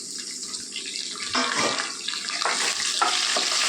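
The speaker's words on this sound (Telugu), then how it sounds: "కొద్దిగా వేసుకుందాం కరివేపాకు. చూడండి, కరివేపాకు కూడా వేసింది." Curry leaves drop into hot oil with green chillies for mint rice, giving a loud, steady, close sizzle with sharper flares of crackling as they hit the pan, and no talking.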